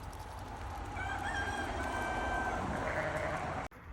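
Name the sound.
chickens clucking and rooster crowing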